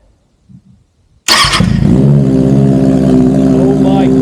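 A 2025 Kawasaki Ninja ZX-6R with an M4 exhaust fires up after a moment of quiet and faint movement, catching with a sharp burst and settling into a loud, steady, close idle.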